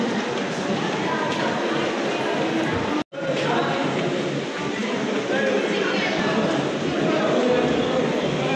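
Dense crowd murmur fills busy Esplanade metro station, a steady loud wash of many voices and footsteps over low station rumble, with a brief dropout partway through.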